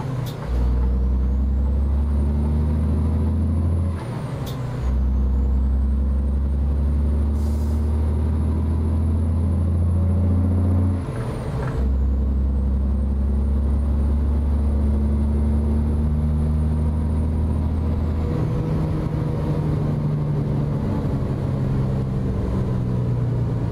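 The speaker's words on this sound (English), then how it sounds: "SES on their own did a really good job with the sounds on this truck too" A heavy truck in American Truck Simulator idles and runs with a deep, steady engine drone, broken by loud hissing bursts of air brakes releasing, close and continuous throughout.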